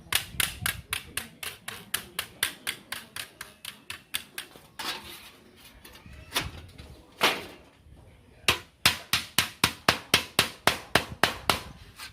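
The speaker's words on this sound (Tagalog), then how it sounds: "itupi po gamit ang martilyo yung magkabilang dulo" Sharp metallic hammer blows folding both ends of a cut metal strip, in rapid bursts, a run of evenly spaced strikes, a short pause with softer knocks, then another quick series, close and loud.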